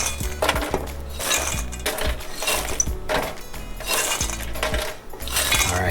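Peach cobbler popcorn is poured and scooped into a bowl, giving a continuous crisp rattle with light clinks and a few louder, rhythmic pulses of tumbling kernels.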